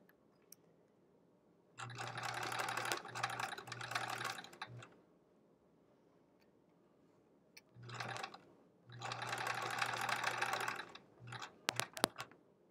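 Domestic sewing machine stitching a nested quilt block seam, two steady whirring runs of stitching separated by a quiet pause, with a few short clicks near the end.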